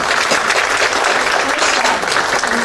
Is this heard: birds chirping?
no